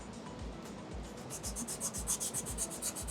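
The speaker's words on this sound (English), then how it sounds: "we're going to try and go in a different direction so that we can sand out the large scratches from the previous step" A sheet of 120 grit sandpaper sands a Terreon solid surface, making rhythmic scraping strokes about three per second, close and moderately loud, with nobody talking.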